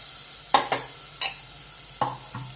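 Chopped raw banana pieces tipped into a pan for a raw banana and mixed chavanu curry, giving a handful of scattered scrapes and clatters over a faint, quiet sizzle.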